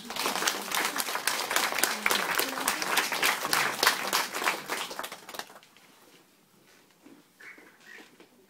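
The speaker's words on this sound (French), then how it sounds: "Nous pouvons l'applaudir." Applause from an event audience greets a performer in a three-piece costume, a lively crowd of clapping hands that runs strong for about five seconds, then trails off into near quiet with a few faint stray sounds.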